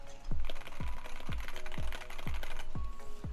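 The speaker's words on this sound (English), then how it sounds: "I can do like a typing test." Typing on a modded Wooting 60HE keyboard: a steady run of distinct keystroke clacks, about a dozen in quick rhythm, close and clear with no talk.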